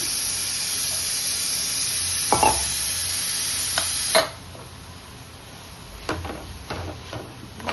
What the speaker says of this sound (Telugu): పుదీనా వేస్తున్నా. పుదీనా 2 కట్టలు.